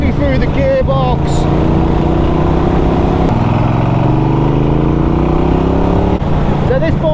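Norton Commando 961 SP motorcycle accelerating up through the gears, its engine note rising steadily in pitch, dropping at each shift around three and six seconds, then climbing again, loud and close with continuous wind roar.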